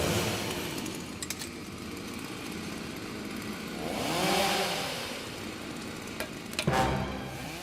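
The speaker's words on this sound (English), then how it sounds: "When you hear that chainsaw rev up," A chainsaw revving up and dropping back, a rising whine swelling around the middle, over a rough background rumble.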